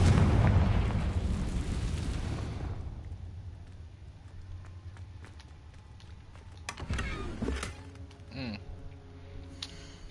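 Rumbling explosive blast from a Confringo spell in Hogwarts Legacy opens loud and then fades into quieter game effects, with a few sharp clicks and short magical chimes near the end.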